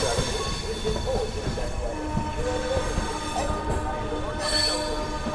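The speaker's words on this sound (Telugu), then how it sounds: "మన ట్రైన్ వచ్చేసి సికింద్రాబాద్ నుంచి అయితే బయలుదేరిపోయింది." Sabari Express, running LHB coaches, pulls out of Secunderabad, a continuous rumble of rolling wagons with rhythmic wheel clatter and brief high squeals near the end, heard from on board.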